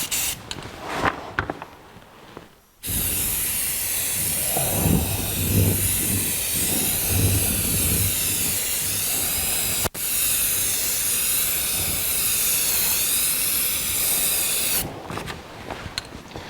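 A spray gun lays primer onto a 1982 Jeep CJ7 tub in a loud, continuous hiss that runs for several seconds, breaks off briefly, then resumes before stopping, with short quieter pauses at the start and end.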